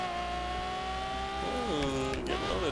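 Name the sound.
car driving in The Crew video game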